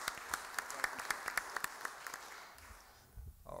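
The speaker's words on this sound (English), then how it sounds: "Let's give Kenny another round of applause" An audience at a city council meeting gives a round of applause. The clapping is faint and distant, a steady patter that thins out and fades near the end.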